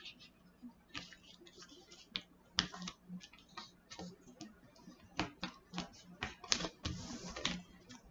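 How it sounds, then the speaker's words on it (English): Paper being creased and folded into a paper crane: quiet, crisp clicks and crackles come in irregular bursts, close by, over a soft low hum. "I'm going to fold it into the middle. And I'm going to do that to the other side."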